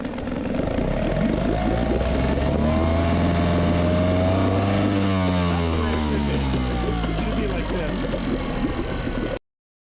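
An outboard boat motor with a cooling problem runs close by, giving a continuous droning hum whose pitch sags and then climbs again midway, before the sound cuts off abruptly.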